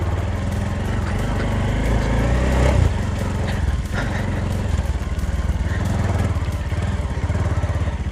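Close, steady motorcycle engine drone as the bike is ridden over a rugged dirt road in the rain in Dhading; revs rise briefly midway, then settle into an even throbbing hum with no voices.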